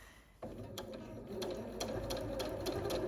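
A sewing machine stitching a quilt runs steadily up close, its rapid mechanical whir and rhythmic needle clatter starting abruptly after a short quiet moment and continuing without a break.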